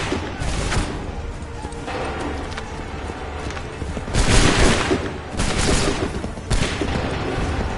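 Volleys of musket gunfire from massed soldiers in Assassin's Creed III, several loud cracking bursts with a battlefield rumble between them and faint hoofbeats underneath.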